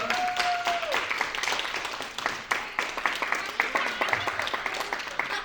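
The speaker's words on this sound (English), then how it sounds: "Round of applause" An audience at an epilepsy awareness event claps in scattered, uneven bursts, individual hand claps standing out, with a voice heard over the start and chatter mixed in throughout.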